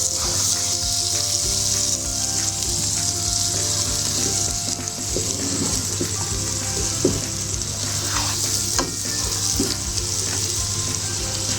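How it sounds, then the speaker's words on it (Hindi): Bitter gourd fries with lentils in a pan, giving a dense, even hiss of hot oil that lasts throughout, with occasional clinks and scrapes of stirring. The sizzle is close and loud, and no one speaks. "अब मैं इसमें करेले डाल देती हूँ। बिस्मिल्लाहिर्रहमानिर्रहीम। और इसको भी भून लेती हूँ।"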